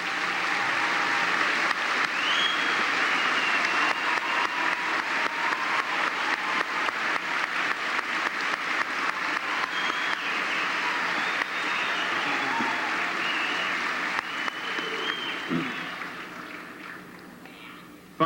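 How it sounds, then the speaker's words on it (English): An audience at a high school graduation ceremony applauds honor students, a sustained, dense clapping that holds steady for most of the stretch before tapering off near the end. "I welcome your applause for them at this time."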